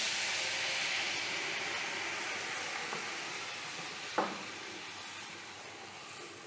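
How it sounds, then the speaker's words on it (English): Red wine sizzles and hisses steadily as it deglazes a hot pan of browned beef for a lemon sauce dish, with a brief clink of a utensil partway through. "Then I'm going to add half a liter of red wine to deglaze the pan."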